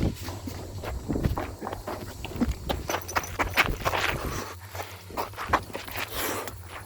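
Irregular footsteps shuffle and knock across the floor of an abandoned manor at night, with scrapes and thuds, moderately close and fairly faint.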